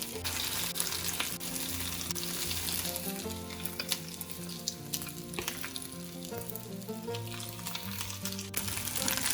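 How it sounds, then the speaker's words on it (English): Cauliflower and broccoli florets fry in a tablespoon of olive oil over medium-high heat, giving a steady close sizzle with occasional spits and light clinks, with no one speaking. "Fry them both sides."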